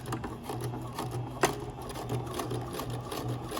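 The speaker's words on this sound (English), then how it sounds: "you're gonna drop your needle and you're gonna sew" A sewing machine stitches a taped seam with a steady, rapid mechanical chatter, close and fairly quiet, with one brief sharp click partway through.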